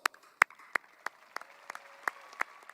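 Sparse, faint clapping from a few people at a high school graduation ceremony, scattered separate claps with gaps between them, heard at a distance in a quiet hall.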